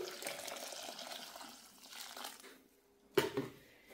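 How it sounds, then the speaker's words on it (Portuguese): About two litres of hot water pour into a mixture for homemade coconut soap, with a faint, steady stream at first and then a sharp splash near the end. "Vamos vir aqui com água quente. São 2 litros de água quente."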